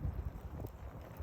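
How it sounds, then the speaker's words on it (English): Low, gusty night wind rumbles steadily against the microphone outdoors beside a winter fire, with no voices present. "It's a windy night."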